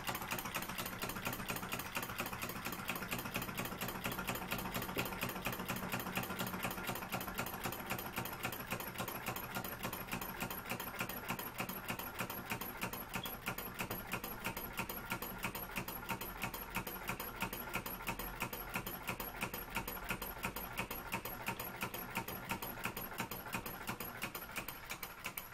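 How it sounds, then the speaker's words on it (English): A cheap homemade solenoid engine chuntering over slowly, with a steady rapid mechanical clicking and whirring that runs evenly and alone, fairly close. "one cheap and cheerful solenoid engine."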